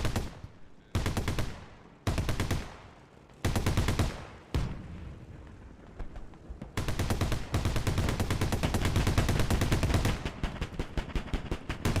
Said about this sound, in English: They are very on edge, shooting an already destroyed vehicle.